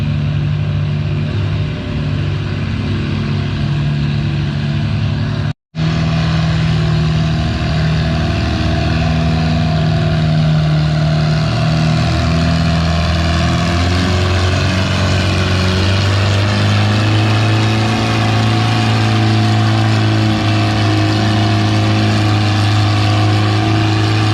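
A tractor engine roars at a tractor pull, a loud, steady, sustained drone with shifting pitch as it works under load, cut by a momentary drop near the start, with no talk.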